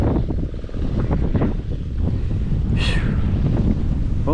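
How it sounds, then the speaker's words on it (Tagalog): Strong wind buffets the microphone in a continuous loud roar across open rice paddies, gusting unevenly, with a brief higher sound partway through. "Oh, lakas ang hangin."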